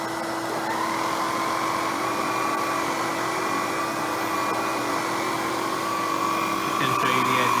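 An Electrolux Epic 6500 vacuum cleaner runs with its brush roll switched on, a steady, close motor roar with a droning whine and a faint rising tone near the end.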